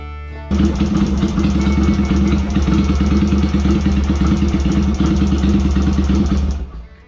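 A Yamaha XS650 motorcycle engine with freshly cleaned carbs starts and idles steadily and loudly for several seconds with an even, throbbing rumble, then cuts off.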